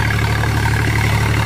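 An Eicher 551 tractor engine running with its silencer removed gives a loud, steady, close-up drone with a deep, even rumble that never lets up.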